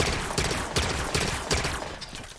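Rapid bursts of fire from the Forerunner Bolt Shot in Halo 5, a loud, dense volley of energetic shots in quick regular pulses, with no voices over it.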